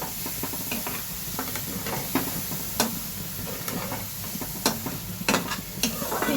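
Eggplant and spice paste stirred in a pan with a little water, giving a steady close sizzle with scattered scraping clicks of the spoon throughout.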